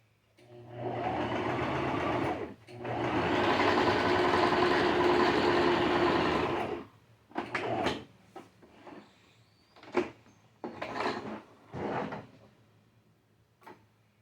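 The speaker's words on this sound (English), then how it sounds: "you're going to stitch just along that line you made" A sewing machine stitching along a marked line on fabric for a side panel and pockets: two steady whirring runs, a brief one and then a longer one, followed by scattered clicks and light handling noises, close and clear.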